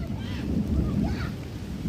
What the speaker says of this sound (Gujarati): મિત્રો વાવાઝોડામાં બરાબર તમે જોઈ શકો છો